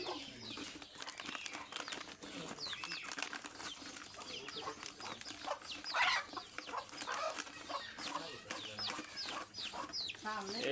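Indigenous village chickens kept at home cluck and call in a steady, overlapping stream over about eleven seconds, moderately close, with occasional wing flaps and faint background activity.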